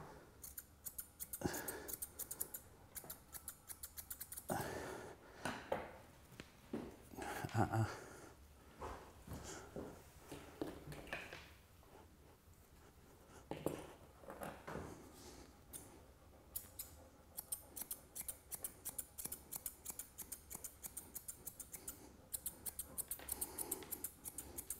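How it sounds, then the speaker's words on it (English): Thinning scissors trimming a golden retriever's fur, rapid rhythmic snipping in close, quiet bursts with short pauses between, while a person talks intermittently. "we use thinners for this just to keep a nice natural look"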